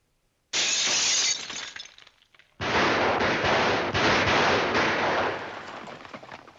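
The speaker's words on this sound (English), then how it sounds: "take that flower pot and throw it through the window" Glass bursts into a loud shattering crash as a flower pot is hurled through a window in a violent Western film scene, followed after a brief pause by a second long, ringing crash of breaking glass and debris.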